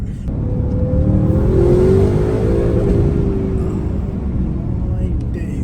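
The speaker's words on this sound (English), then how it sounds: "You can actually hear the tone of the V8 a lot more" A tuned Audi RS7 V8 accelerates on a road, its loud engine note climbing and then settling into a steady drone. Voices are heard over it.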